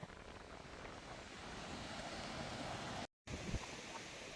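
Waves washing onto the beach at Langebaan, South Africa, a broad continuous surf roar mixed with wind buffeting the microphone, with one brief dropout near the end.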